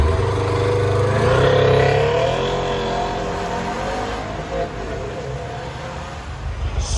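A Subaru WRX STi 2.5L revs up and settles through an Invidia cat-back exhaust, the nearby engine rising to a loud peak and then idling rougher and quieter.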